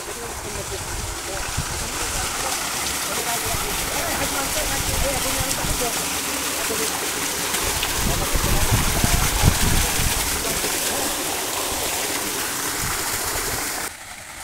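Water gushing from both outlets of a 3-horsepower 4x4 solar-powered irrigation pump, a loud continuous rushing and splashing that swells slightly midway, with voices of people bathing mixed in underneath.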